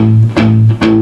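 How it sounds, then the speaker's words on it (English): Palm-muted electric guitar power chords chug in three short, tight, dampened strikes, close and loud, in a steady rock and roll rhythm. "you might have noticed I'm using palm muting."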